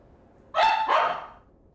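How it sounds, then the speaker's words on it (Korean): A pet dog gives two quick, loud, insistent barks close by, demanding attention from its owner indoors, then goes quiet. "보호자와 눈을 마주치니 떼쓰듯 짖는데요."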